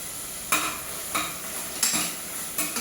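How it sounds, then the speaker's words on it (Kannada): A spoon stirs masala with mint and coriander in a hot pan, four distinct scraping strokes spaced about half a second to a second apart over a steady soft sizzle of frying, close and alone. "ಇದೆಲ್ಲ ಸ್ವಲ್ಪ ಮಸಾಲೆ ಎಲ್ಲ ಹುರ್ಕೊಳ್ಳಿ."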